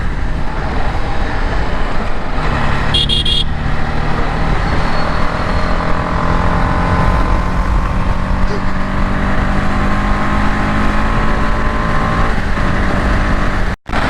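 A KTM-style RR310 motorcycle ridden at speed on an open road, its steady engine drone and wind roar continuous and close throughout, with a brief mechanical clatter early on and a sharp dropout near the end.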